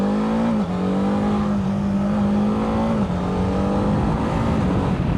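A BMW F450 GS adventure motorcycle with a 135-degree crank pin engine idles steadily and close by, its drone holding even with slight pitch dips and no talking.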